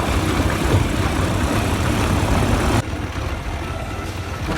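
Motorcycle engine running steadily while riding an off-road mountain trail, a continuous loud broadband drone that drops slightly in level partway through, with no speech.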